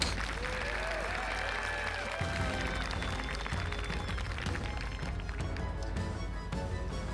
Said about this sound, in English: Loving those crowd cheers